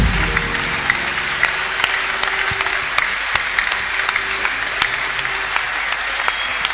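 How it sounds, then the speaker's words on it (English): A church congregation claps together in a sustained offering of applause, with loud, sharp individual claps standing out over a steady rhythmic wash and a low musical backing underneath. "Give God the biggest clap offering you can."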